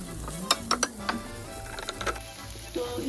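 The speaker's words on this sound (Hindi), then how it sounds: "तो अब इन सब चीज़ों को जो है अच्छे से मिक्स करेंगे।" Ingredients with ketchup being stirred and mixed in a bowl for chicken cheese fingers, close scraping and a series of light spoon clicks and taps against the bowl over a quiet background.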